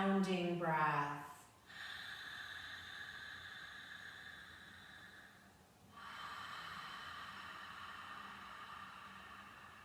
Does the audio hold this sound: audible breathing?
yes